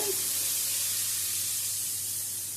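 Shrimp being stirred and fried with salt in a pan for mixed rice, heard as a dense, steady, hissing sizzle that stays loud and even from start to finish, with no clear voices.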